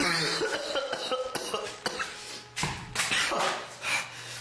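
Several harsh coughs and throat-clearing bursts, close by, over a busy background of game noise and muffled sounds.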